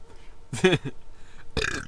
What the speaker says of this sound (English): I guess it was just that good that I had to burp in real life.